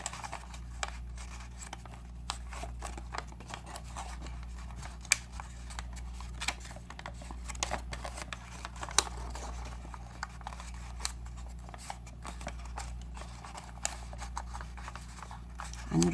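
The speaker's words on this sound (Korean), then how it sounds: "모두 펼쳐서 접어 내려진 삼각 부분을 안으로 접어서 넣어줍니다" Paper is creased and folded for an origami hanbok doll, soft close rustles and crisp scraping clicks in irregular short bursts over a quiet background.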